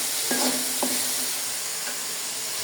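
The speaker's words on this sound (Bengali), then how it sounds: "এটা হালকা তেলে গরম করে নিচ্ছি" Spices sizzling in a thin layer of hot oil in a pan while chicken curry is being prepared, a steady close frying hiss with a couple of brief stirring scrapes near the start.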